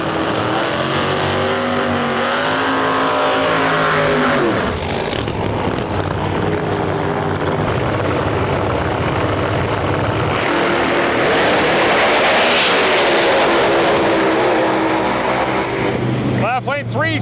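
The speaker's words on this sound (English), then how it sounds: "Right lane 362, left lane 363. Good passes side by side right there." ProMod drag race cars run side by side during qualifying at the Snowbird Outlaw Nationals, their engines roaring loudly, swelling and fading, then surging again as another pass follows.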